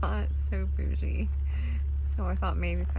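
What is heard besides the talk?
No everyday noises stand out.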